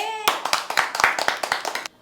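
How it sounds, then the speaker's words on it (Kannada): Audience clapping at a Kannada film event, a burst of quick, uneven claps that starts abruptly after a brief tone and carries on close and lively for under two seconds. "ಹೊಡೀರಿ ಚಪ್ಪಾಳೆ."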